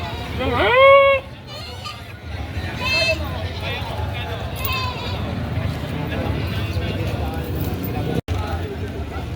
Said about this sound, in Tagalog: Napakalaking kambing lalaki.